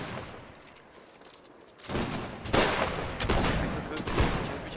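Musket volley fired by a line of players in an NW League match between the 45e and 63e, a ragged, loud fusillade of overlapping shots swelling over several seconds with crackling echoes and distant shouting.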